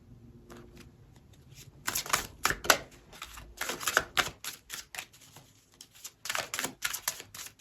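Tarot cards shuffled and pulled from a deck: a quiet start, then bursts of crisp riffling and slapping card sounds in uneven clusters, close by and without talk.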